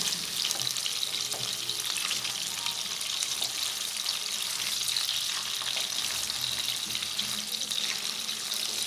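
Ayer fish (aar catfish) frying in a pan for a spicy curry, giving a steady, close, dense sizzling hiss that holds at an even loudness for the whole stretch, with small crackles and no talking.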